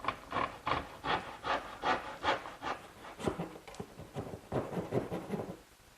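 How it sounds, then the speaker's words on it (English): A small dovetail saw cutting about three-quarters of an inch off a wooden tongue on a kitchen work table, steady rhythmic back-and-forth strokes, close and moderately loud, slowing at the end. "I'm going to take my little dovetailing saw and trim off about 3/4 of an inch"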